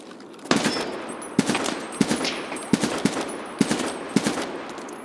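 Rapid bursts of weapon fire in the video game Escape from Tarkov: about eight sharp, loud shots in an uneven rhythm, each trailing into a lingering echo over a steady background.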